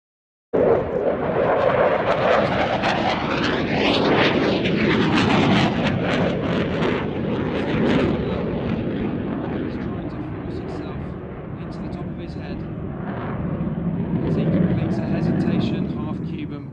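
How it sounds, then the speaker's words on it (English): A Eurofighter Typhoon jet flying low and slow into wind at East Midlands Airport, a loud sustained roar that swells and shifts in pitch as it passes, continuing throughout. "Watch as he's dropping the Eurofighter ground speed to probably, as it's into wind, below 100 knots."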